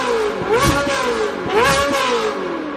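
A Ferrari engine revs hard twice, each rise climbing to a rasping high-pitched howl before dropping back, loud and close.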